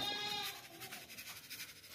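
A young, clean dairy goat offered for sale gives a short bleat near the start, fairly close, then fades into a rough, breathy background with no talking.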